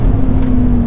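A Lamborghini Huracan Tecnica at speed on a race track as it brakes hard, giving a loud, steady roar of engine and road noise that holds unbroken for the full second.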